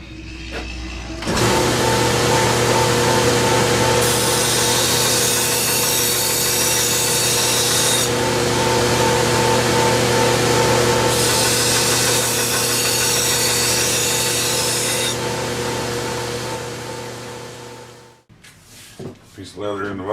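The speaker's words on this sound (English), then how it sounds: "Now let's sharpen it." A chef's knife made from a rasp is ground steadily for about seventeen seconds, a loud continuous abrasive whir with a steady hum and pulsing surges, before it cuts off and a few handling clatters follow.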